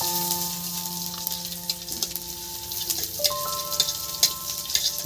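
Garlic sizzles in hot oil in a pan for a fish roe and potato dish, a steady close frying hiss with small crackles and occasional ticks, with no talking over it.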